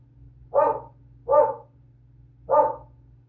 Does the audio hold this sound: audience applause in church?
no